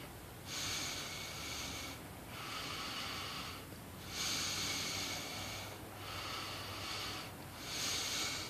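Pipe smoke exhaled through the nose: several long, breathy nasal exhalations in a slow rhythm, each lasting about one and a half seconds with brief pauses between, close and fairly quiet.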